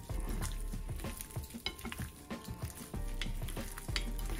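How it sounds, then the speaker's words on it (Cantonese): A mustard and olive oil marinade being mixed for Greek yogurt lamb rack, with soft, irregular scraping and stirring strokes close by and a faint steady hiss underneath. "咁我哋撈勻佢先"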